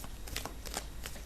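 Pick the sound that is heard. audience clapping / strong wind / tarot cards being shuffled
tarot cards being shuffled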